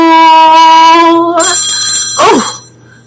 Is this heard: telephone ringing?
yes